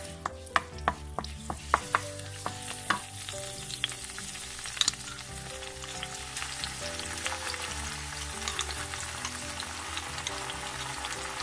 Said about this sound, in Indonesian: Kita panaskan minyaknya. Tambahkan daun jeruk.